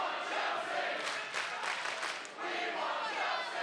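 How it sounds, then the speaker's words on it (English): Adelaide wrestling crowd at a championship match reacting to Matt Cardona, a loud, sustained roar of cheers and shouting with a brief dip before swelling again. "the Adelaide crowd letting Cardona know they approve of his spouse"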